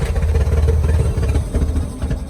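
A 1965 Chevrolet Corvair engine, pulled from an abandoned car, struggles to run. It chugs and clatters unevenly at a low idle, close and fairly loud, for a couple of seconds.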